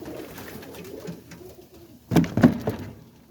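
Roller pigeons of black-and-white and black-and-cream colouring coo in a short, close burst of soft throaty calls after a quiet stretch, with no talk over them.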